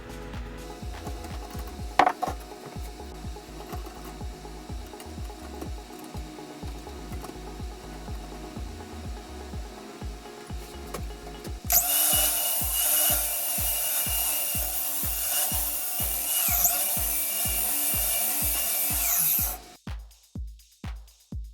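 An old lawnmower blade is ground on a blade sharpener with an adjustable angle guide, starting with steady rhythmic scraping strokes and then a loud, sustained high-pitched grinding run that stops abruptly, followed by a few more strokes.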